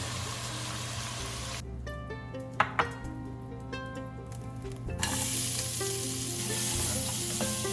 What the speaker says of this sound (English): We'll saute onions and carrots.